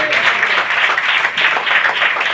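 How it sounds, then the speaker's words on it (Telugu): A crowd at a Christian gospel meeting in Jayalakshmipuram village applauds loudly and steadily, many hands clapping in a dense, continuous wash that holds for the whole stretch. "కొట్టండి చప్పట్లు ఒకసారి."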